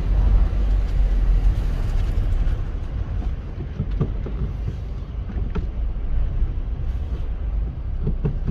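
A train passes by near a railway neighbourhood, producing a loud, steady rumble with intermittent clanks and rattles of rolling wagons that continues throughout, with no talking over it.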